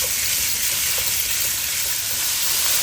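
Chicken pieces stir-frying in a hot pan, a constant loud sizzle and crackle with faint stirring, no voices.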